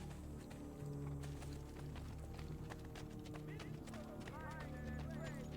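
Horse hooves clip-clopping at a run in the Assassin's Creed video game, steady rhythmic hoofbeats over game music and effects, with someone talking over it.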